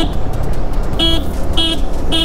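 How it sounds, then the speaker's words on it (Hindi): Dual horn fitted to a Yamaha R15 V3 motorcycle, sounding slightly cracked and harsh: three short, loud honks in quick succession close by, over a steady background rumble. "अभी तो मैंने इसमें ऑलरेडी ड्यूल हॉर्न लगा दिया है, तो आप लोगों को तब तक एक आवाज तो सुनाई देता हूँ।"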